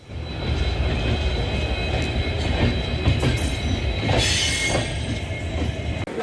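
A train arriving at a station rumbles loudly close by, wheels clattering and squealing on the rails as it rolls and slows, without any talking.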